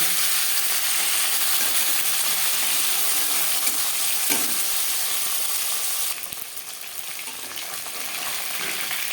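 Tilapia fries in oil, a loud, continuous hissing sizzle that holds steady, with a brief knock midway, then softens slightly for the last few seconds.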